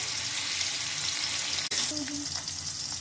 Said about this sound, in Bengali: এবার আমি এই তেলের মধ্যে সবজিগুলোকে একটু ভেজে নেব